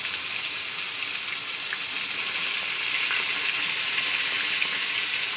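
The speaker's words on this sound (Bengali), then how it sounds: "তো প্রথমে মাছের মাথা দুটো ভাজা করবো।" Two tilapia fish heads fry in hot oil, giving a steady, dense hissing sizzle that holds evenly throughout without any talk.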